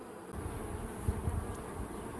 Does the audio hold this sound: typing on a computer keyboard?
no